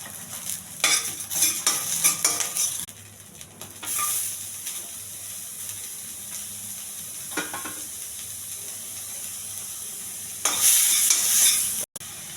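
Oil with curry leaves, cumin and chana dal sizzling in a pan, with bursts of crackling and spattering, stirring scrapes, and a loud sizzle swell near the end before a sharp cut.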